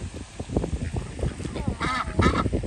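Ducks and geese being fed at Lake Carola in Sanford, Florida, give a few honks and nasal quacks, moderately close and fairly soft, amid a background of low bustle and faint shuffling.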